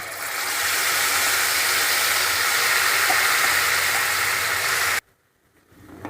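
Ground masala paste hits hot oil in a pan for a Dhaba-style matar paneer, giving a loud, steady broadband sizzle for about five seconds before it cuts out to near quiet.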